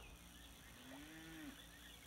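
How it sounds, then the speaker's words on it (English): A calf lows in a cattle pasture, one drawn-out, slightly rising moo at moderate distance over a quiet outdoor background with no talking. "I heard a calf."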